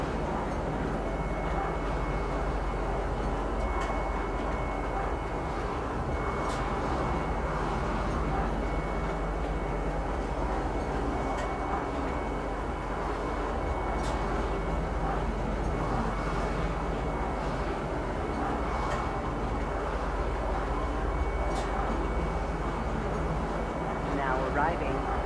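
Train arriving at Central Station in Star Citizen, a steady low rumble and hum of the carriage with faint periodic clicks and ticks, continuous throughout while a voice announcement plays over it.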